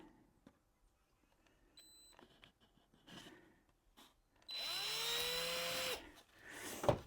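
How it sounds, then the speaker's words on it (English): A power drill bores a hole through a dried gourd birdhouse. Faint taps and clicks come first, then the motor whines loudly and close for about a second and a half, pitch sliding slightly, before stopping with a final clatter. "Drill your other hole."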